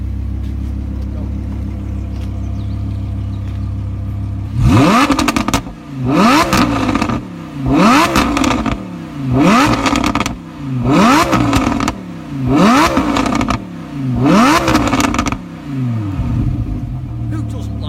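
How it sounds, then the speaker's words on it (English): An Audi R8 V10 with a decat Brooke race exhaust and a custom stage 2 pops-and-bangs tune idles, then revs hard in about seven loud, close blips, each ending in crackling exhaust pops. "Audi R8, custom software in it, pops and bangs, decarred exhaust."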